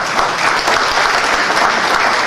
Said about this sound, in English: Please give a round of applause to him.